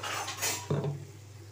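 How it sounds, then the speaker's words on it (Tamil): A spoon scrapes and clinks against a pan while stirring masala sundal of black chana with freshly grated coconut, a few short close metallic scrapes and one sharper knock, fairly quiet. "நல்லா கிளறி விடலாங்க"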